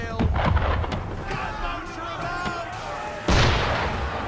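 Gunboat cannon fire in the Assassin's Creed 3 video game, with booming blasts and a heavy burst near the end over a continuous roar of ship and sea ambience.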